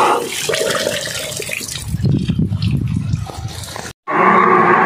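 Water gushing from a pump outlet right after priming, a steady loud rushing flow that thins out, cuts off briefly, then surges back strong and bright.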